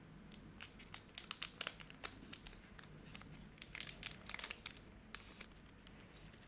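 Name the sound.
scissors cutting open a trading card pack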